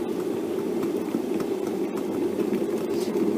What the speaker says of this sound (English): So it seems to the kettle is coming to the boil. The steam is coming out.